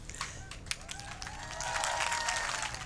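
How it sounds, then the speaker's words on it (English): Audience applause for a political speaker, the former First Lady, starts as scattered claps and builds into steady, moderately loud clapping from a crowd. "The former First Lady had no trouble winning applause"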